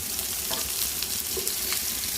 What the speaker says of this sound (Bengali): পেঁয়াজ আর রসুন ভাজা আর শুকনো মরিচ ভাজা সব রেডি করে নিচ্ছি